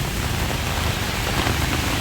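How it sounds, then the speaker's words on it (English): Heavy monsoon rain pours down in Bangkok, Thailand, a dense, loud, unbroken hiss of water striking surfaces, heard alone without any talking. "it's been raining all day, but it really started pouring now"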